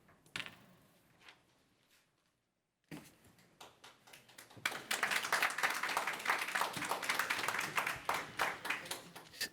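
Audience at a public meeting clapping, dense applause swelling after a brief pause and continuing steadily, fairly close and moderately loud.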